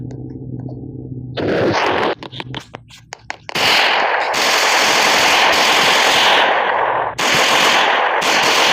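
Rapid crackling bursts of firecrackers in a Roblox game pop and rattle in dense, loud volleys, nearly continuous with a brief pause between.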